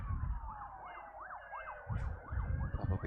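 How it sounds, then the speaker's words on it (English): Emergency vehicle sirens wail outside at an Australian national championships event, with a rising and falling tone that goes on steadily at moderate distance and low rumbles underneath. "Plenty of sirens around today."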